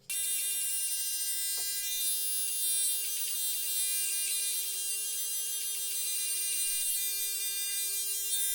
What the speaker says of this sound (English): I'm gonna fade the beard a little bit now